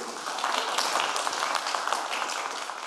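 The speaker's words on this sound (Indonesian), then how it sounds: "Kita berikan tepuk tangan kepada seluruh anggota Dewan Pers" Moderate applause from an audience at a press freedom declaration event for presidential and vice-presidential candidates, honoring members of the Press Council, an even wash of clapping held at a steady level for a few seconds.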